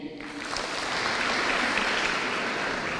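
A crowd at a public gathering in Kakamega applauds the Butere girls' school, a dense, steady burst of clapping that swells quickly and holds for a few seconds.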